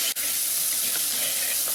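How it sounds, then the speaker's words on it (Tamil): Mixed vegetables sautéing in a pan for idli upma give a steady, moderately loud sizzle and hiss throughout, with one brief sharp click near the start. "நல்லா காய் வதங்கட்டும்."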